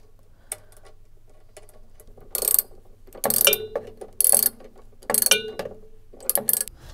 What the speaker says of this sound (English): use your 10mm socket set to tighten the inner bolt